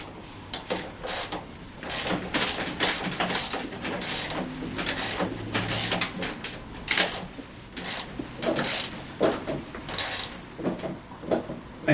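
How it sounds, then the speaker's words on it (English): A 14mm ratchet tightens a nut onto a bolt during assembly of a Tao Tao CY150A scooter, giving rapid bursts of sharp, close clicking in uneven runs separated by short pauses. "This is 11/16 and a 14mm ratchet. Go ahead and Crank this thing down some."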